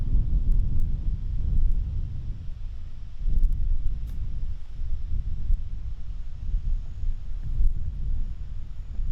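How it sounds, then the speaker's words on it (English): Gusty wind on a golf course during a high school boys varsity golf match in Norton, low rumbling buffeting against the microphone that rises and falls continuously, with a few faint ticks. "Pretty windy day here today in Norton."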